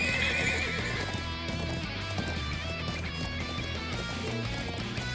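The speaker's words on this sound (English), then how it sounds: "Thoroughbred war horses from the Bardias family's own stables" Thoroughbred war horses in the Trails of Cold Steel IV video game: a loud, dense din of neighing and whinnying over galloping hoofbeats, mixed with music and battle clamor and continuous throughout.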